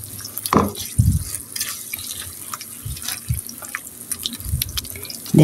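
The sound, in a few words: mixing milk, flour and cornflour for cream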